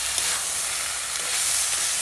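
Spices fry in oil in a Bengali village kitchen, giving a steady, loud, even sizzling hiss with no pauses.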